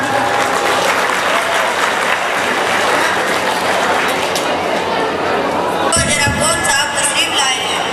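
Loud, sustained applause from a crowd fills the whole stretch, dense and steady, with a shift toward brighter, sharper clapping near the end.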